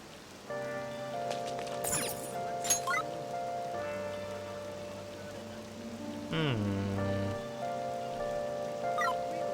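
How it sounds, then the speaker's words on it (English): Steady rain falls in the video game Persona 5 Royal, a soft constant patter under sustained musical tones, with a few brief sharp accents and no talking. "Do you like the rain?"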